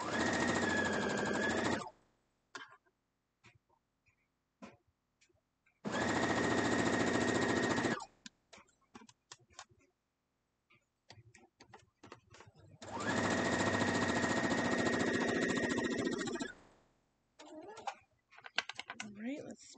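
Sewing machine stitching quilt block pieces in three loud, steady runs, separated by quieter handling noises and short pauses.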